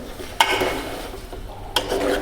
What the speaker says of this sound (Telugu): అందులోకి చికెన్ వేసుకొని అంటే కవర్తో వేసుకుంటున్నాం.